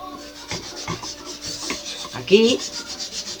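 A cloth is rubbed over a wooden chair to wipe off fine metallic dust, making repeated close, raspy scrubbing strokes with one louder swipe partway through.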